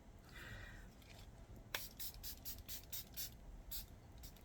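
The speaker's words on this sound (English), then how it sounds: "Before I do that, let me spray my face." Charlotte Tilbury Airbrush Flawless Setting Spray is misted onto a face in a quick run of short, quiet, close hissing spritzes after a brief lull.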